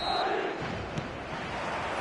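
A stadium crowd roaring in the eFootball video game, a dense, steady wash of cheering voices at moderate level, alone with no talk over it.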